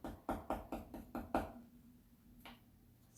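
A stencil brush stipples paint onto a hollow little wooden dresser drawer, making six sharp, evenly spaced tapping knocks close to the mic, then quiet with one faint tap later.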